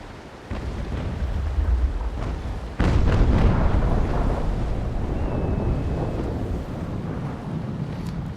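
Naval cannon fire in the sailing warship game Naval Action, heavy booming blasts followed by a sustained low roar of wind and sea, loud and continuous with no talk.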